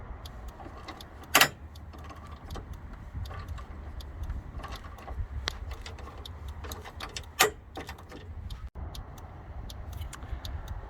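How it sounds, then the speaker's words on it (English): Removal of a 10mm screw from a GMC Terrain battery holder, with a string of quiet ticking ratchet clicks and a few sharper metallic clinks, close and soft, no talking. "So remove this screw."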